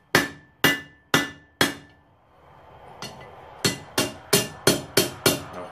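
Sharp metallic hammer blows setting a rivet on kit blacksmith tongs at a forge, four spaced strikes, a pause with faint shuffling, then a quicker run of seven ringing, close blows.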